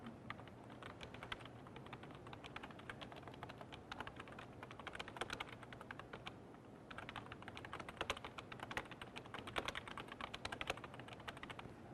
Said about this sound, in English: Let's type this host in.